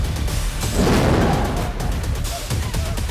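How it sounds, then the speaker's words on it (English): Muffled low booms and bursts roll in an irregular sequence, a rumbling series of air mortar blasts on a Game of Thrones battle set, with noisy background and no clear talking. "We've got all sorts of air mortars going off."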